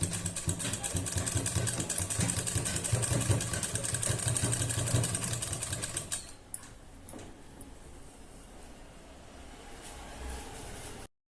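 A sewing machine stitching lace onto an Afghani salwar runs in a steady close mechanical whir for about six seconds, then stops, leaving faint handling sounds.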